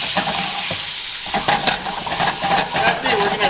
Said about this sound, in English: We're going to stir this around for a little bit.